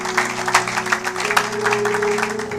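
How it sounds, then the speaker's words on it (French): A church congregation claps together in a steady, dense patter of applause, with a sustained organ or keyboard tone humming underneath and faint voices mixed in. "Acclamons pour la gloire de notre Dieu"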